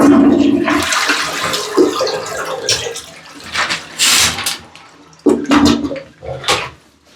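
An apartment toilet flushes and refills, with uneven gushing and hissing water surges rising and falling nearby at moderate volume.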